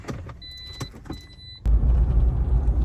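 A car's power window whirs for about a second before the engine starts with a sudden loud, steady low rumble that carries on to the end.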